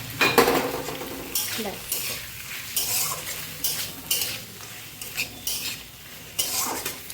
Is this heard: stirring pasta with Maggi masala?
yes